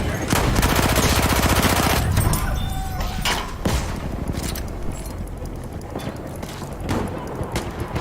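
Rapid gunfire in Battlefield 1, bursts of sharp repeated shots ringing out loud at first, then thinning to scattered cracks amid battle noise, with a voice speaking briefly.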